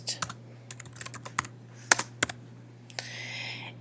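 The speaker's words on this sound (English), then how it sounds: "And then you could type your student into your list." Computer keyboard keys tapped in short irregular bursts while entering text into an Evernote table, the clicks close and crisp over a low steady hum, with a longer run of rapid typing near the end.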